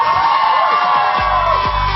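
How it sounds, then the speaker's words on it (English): Crowd cheering and whooping at a college valedictory event as the overall event coordinator is called up, a loud steady roar of voices with shouts rising through it for the full two seconds. "Can we have now a huge round of applause"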